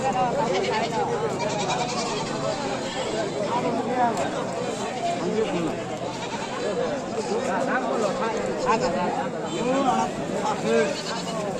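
Goats bleat repeatedly amid a busy, noisy crowd at a wholesale goat market in Bakshiganj, Jamalpur, Bangladesh, with many people talking loudly all around.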